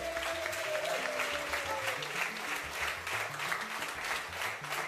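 Audience applause for French Guiana at the Lyannaj Festival, a sustained dense clapping from a hall crowd, with a rising tonal whistle and background music tones running beneath.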